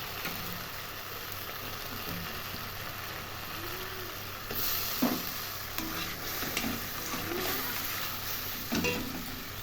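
Paneer frying with garam masala in a pan gives a quiet, steady sizzle broken by occasional stirring scrapes and spatula knocks, close and without speech.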